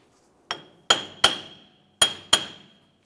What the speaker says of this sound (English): give it a couple loving bonks with your hammer until you see the wheel bearing start to break free